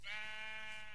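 A single Minecraft sheep bleats once, a clear, buzzy, tonal call heard alone with nothing else around it.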